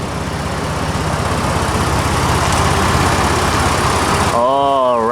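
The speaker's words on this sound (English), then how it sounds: "Sound of the V8 3-liter" The 3-liter engine of a 2023 Ford Ranger Raptor pickup idles in a steady low rumble, loud and close, then a voice cuts in over it at the end.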